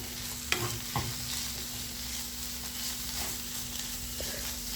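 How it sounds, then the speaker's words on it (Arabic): Sliced onions fry and caramelise in a pan that earlier held chicken, giving a steady, fairly quiet sizzle with a few louder scrapes and stirs breaking through, and no talking. "ونقلوها مليح ونخلوه مليح يتبال ويتقلى ويتكرمل كما راكم تشوفوا"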